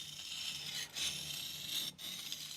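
A 165 mm Tosa Boeki funayuki knife grinds against a resin-bonded diamond stone, giving a steady close-up rasp that breaks briefly twice as the strokes change.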